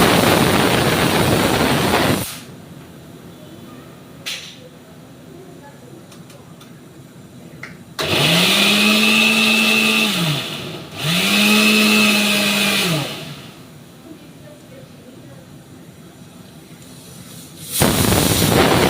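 An electric mixer grinder blends boiled jackfruit seeds into a paste, loud bursts of motor whine rising and falling, with short stops in between and a quieter lull at the start and end.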